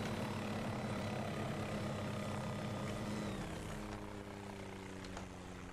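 A WAC helicopter in Garry's Mod lands with a steady droning rotor and engine hum that holds evenly, then shifts pitch and settles lower near the end, fairly quiet, with no voices heard.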